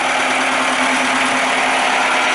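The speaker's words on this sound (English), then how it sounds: "I've got the engine running." An engine idling steadily nearby, a loud constant droning rumble with a faint vibrating buzz, no voices.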